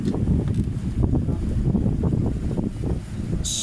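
Strong wind buffets the microphone with a continuous low rumbling roar and gusty thumps throughout.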